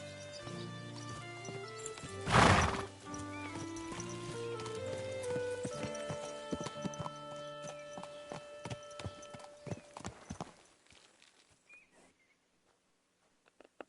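Horse in Kingdom Come: Deliverance 2 clip-clopping in a steady hoof rhythm, with a loud whinny early on, ending in a few scattered steps before falling quiet.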